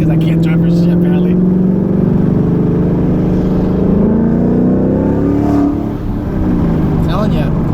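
A 2018 Ford Mustang with a six-speed manual transmission and new clutch drives with its engine loud and close, revving steadily up and down as it pulls through gears, a continuous throaty drone.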